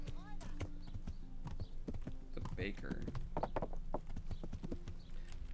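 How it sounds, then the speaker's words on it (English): Horse hooves clip-clop steadily in the medieval game Kingdom Come: Deliverance as a rider moves through a town, with someone talking over the hoofbeats and game ambience. "I can't talk to people while on my horse."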